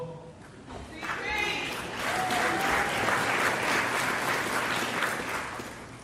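A crowd at a basketball Hall of Fame induction speech breaks into sustained applause that swells and holds for several seconds, following a brief spoken moment at the start.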